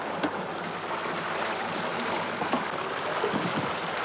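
A small stream flows over rocks in a steady, close-by broadband rush of water, with no voices over it.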